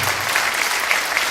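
An audience at a Restos du Coeur charity hospital show applauds loudly in a dense, continuous burst lasting just over a second.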